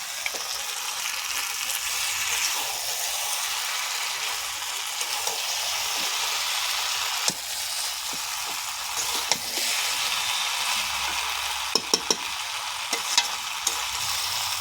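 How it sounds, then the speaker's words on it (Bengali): A bhetki fish head fries in a spice paste, sizzling continuously up close while a utensil scrapes and stirs with scattered sharp clicks near the end. "এর মশলার সঙ্গে ভালো করে মাথাটা আমি কষে নিয়েছি।"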